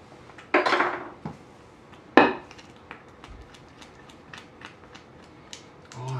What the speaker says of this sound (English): We're gonna stir in the vanilla.